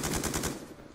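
A short burst of rapid automatic gunfire from a video game shooter, about five quick shots at even spacing that trail off, moderately loud with no voices.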